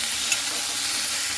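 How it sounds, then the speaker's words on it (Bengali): Vegetables fry in a pan with a steady, close sizzle that holds at the same level throughout, and one faint clink sounds near the start. "এইভাবে খুব সুন্দর করে প্রায় 2-3 মিনিট একটু ভেজে নেব"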